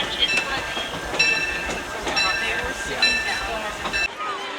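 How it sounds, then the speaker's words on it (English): Disneyland Railroad train pulling into Mickey's Toontown Depot, with a steady rumble of rolling cars and faint wheel clatter under crowd murmur and a voice, fading out abruptly at the end. "We're now arriving here at Mickey's Toontown Depot."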